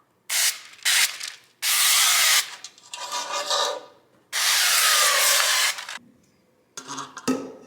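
A series of close, sharp hissing bursts from an aerosol spray can, some short and a couple held longer, separated by brief pauses.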